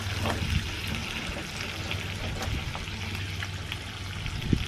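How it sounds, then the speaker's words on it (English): Bacon, for a maple-bacon, cheese and lettuce sandwich, frying in a pan gives a faint, steady bubbling sizzle with small scattered pops throughout. "So you can see the bacon now, it's cooking."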